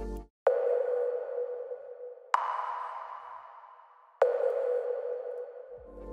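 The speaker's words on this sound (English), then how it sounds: "There's a tom that I love using. Basically, it's pitched, it goes from left to right, and then it's like an octave, then the octave above that." A pitched electronic tom sample in a progressive house production strikes three times, each hit ringing out and slowly decaying, panned across the stereo field and stepping up in pitch by octaves, with no other sounds between hits.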